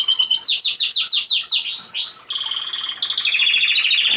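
Pet birds in an indoor bird room give bright, rapid chirps and trills, a run of quick repeated falling notes followed by faster buzzy twittering, close and loud with no voices.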